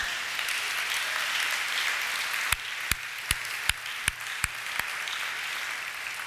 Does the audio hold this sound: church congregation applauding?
yes